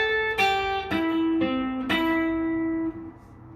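A guitar picks out the SpongeBob SquarePants theme as a short phrase of sustained, ringing notes played without pausing, a few distinct plucks letting each note bloom and decay, close and alone with no talking.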